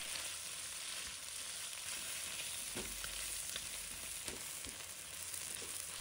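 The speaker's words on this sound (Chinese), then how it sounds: "将虾头和虾壳倒入锅中翻炒" Shrimp heads and shells stir-fry in hot oil in a wok over medium-low heat, a steady crackling sizzle with occasional scraping stirs and soft clunks, close by and continuous with no voices.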